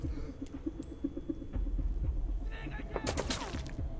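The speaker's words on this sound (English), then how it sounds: "Oh, he's shooting." Enemy gunfire in Metal Gear Solid V: The Phantom Pain at night, heard as scattered distant shots over a low game rumble, building to a louder burst of bangs near the end, with voices faintly mixed in.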